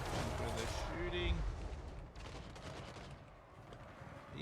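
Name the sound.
gunfire in the video game Total War Warhammer 3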